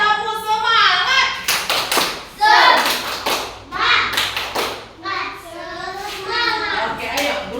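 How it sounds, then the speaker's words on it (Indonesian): Schoolchildren at a lesson perform a rhythmic spirit clap, several beats of group clapping and thumps mixed with children's chanting voices, the rhythm broken into repeated bursts between spoken phrases. "Tepuk semangat."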